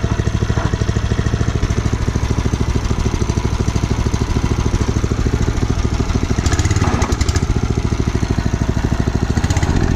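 A small gas engine runs steadily once taken off choke, a loud, close, rapid even putter that holds the same pace throughout with no voices.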